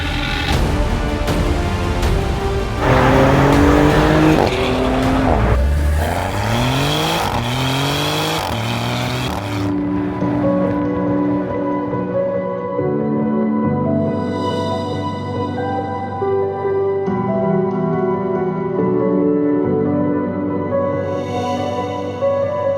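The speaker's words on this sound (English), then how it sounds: "Let's go for a drive." A Maserati GranCabrio convertible accelerates hard, its engine rising through revving gear sweeps up close, then settling into a steadier cruising drone with tire and wind noise as it drives on.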